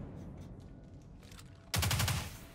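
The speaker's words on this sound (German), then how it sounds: "So, jetzt ist das unsere Handfeuerwaffe." A rapid burst of about five sharp, loud shots from a handgun in the video game Destiny 2 breaks in after a quiet stretch of low game ambience, then fades into a short echo.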